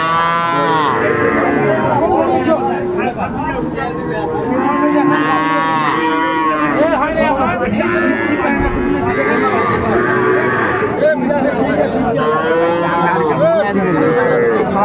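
Young bulls and calves at a cattle market in Kurigram and Rangpur moo repeatedly and loudly, many overlapping calls rising over a busy crowd with people talking throughout.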